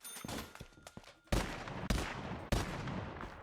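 Gunfire in an Unreal Engine 5 Call of Duty Zombies-style game as zombies are shot, a few loud, sharp bursts with sudden onsets spaced about half a second apart, each trailing into a dense, noisy decay.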